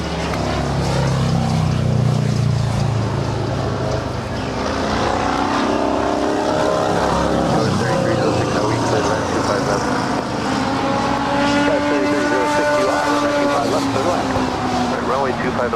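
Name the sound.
airplane at Los Angeles airport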